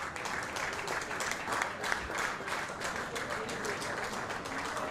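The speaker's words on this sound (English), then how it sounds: "the players leaving, getting a lot of applause from some of their supporters here in the crowd" Supporters in a football stadium crowd applaud as Espanyol Barcelona players leave the pitch after a match against Kasimpasa, a steady wash of distant clapping filling the stands throughout with faint crowd murmur beneath.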